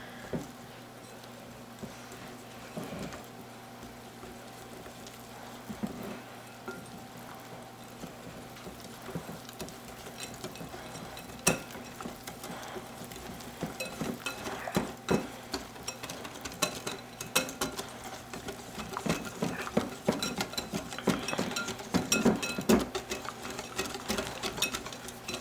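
Batter for a homemade 7 Up pound cake, thinned with a splash of 7 Up and mixed, produces a steady mechanical whir with soft rhythmic patter, growing busier and louder toward the end, with no talking.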